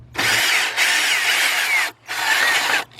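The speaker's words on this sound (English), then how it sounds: "Let's get our cordless gun," A cordless drill driving an 8mm ground wire bolt out on a 2008-2011 Ford Focus during AC evaporator core replacement: two long, steady whirring runs with a brief pause between, loud and close with no talk.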